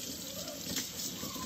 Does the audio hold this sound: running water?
yes